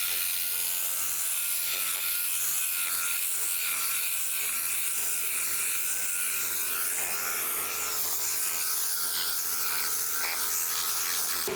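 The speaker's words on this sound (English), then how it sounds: "we're gonna be using our Tornador to blow out the mat" Tornador air cleaning tool blowing compressed air across a car floor mat during a detail of a 2003 Volkswagen Beetle, a loud, steady broadband hiss and whir that runs continuously from start to finish with no talk.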